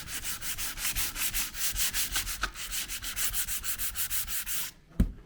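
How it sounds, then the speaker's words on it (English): Steady rhythmic sanding strokes on a wooden ledged and braced door, a close back-and-forth rasp repeating about twice a second, ending with a sharp knock. "Bit of sand off."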